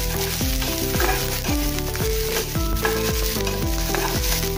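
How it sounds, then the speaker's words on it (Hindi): Ginger and garlic cloves sizzling loudly in a hot pan, with the busy crackle of frying and the repeated scrape of stirring running throughout. "इसमें अदरक डालेंगे और लहसुन की कलियां भी डालेंगे 5-6। इसको भी थोड़ा सा भून लेंगे।"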